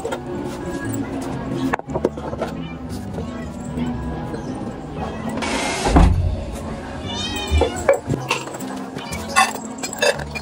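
Several hungry cats meow before feeding, with a loud drawn-out meow and a few shorter cries mixed into household clatter, close to the microphone, while people talk in Filipino.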